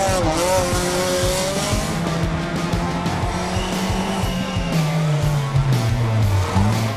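Rally car on the asphalt stage of the 45th Yeşil Bursa Rally near Keles, Bursa, roaring loudly and steadily with its engine note climbing and falling as it passes close by.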